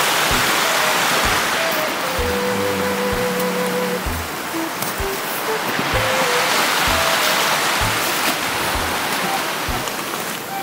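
A river in Switzerland rushes past in a loud, steady roar of broadband water noise that fills the whole stretch without a break, with faint thumps and tones beneath it and no talking.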